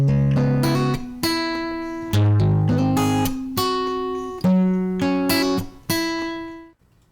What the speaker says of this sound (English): Next, I'll use the air distortion